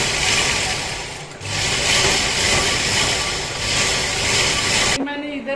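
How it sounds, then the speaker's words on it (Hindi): A sewing machine runs a long straight seam on cloth while reusing an old fabric bag. It whirs loudly and steadily, with one brief pause near the start, and stops abruptly at the end. "और एक लंबी सिलाई लगा लूंगी।"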